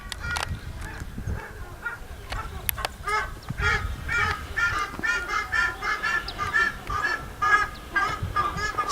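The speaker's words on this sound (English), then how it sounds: "This may be a mating call for the birds." Repeated honking goose-like bird calls in an outdoor setting in Southern Peru, a rhythmic series of nasal cries rising in intensity over steady background noise, calling continuously and fairly close.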